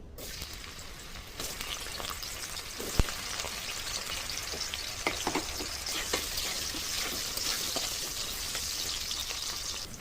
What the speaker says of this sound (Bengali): কাঁচকলাগুলো হালকা ভাজা হয়ে গেছে